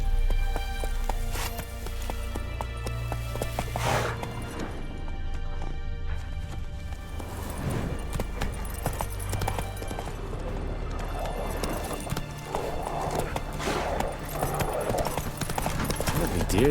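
The horse Roach gallops in The Witcher 3, hooves clip-clopping in a quick, steady rhythm throughout, with a voice talking over it and game sounds in the background.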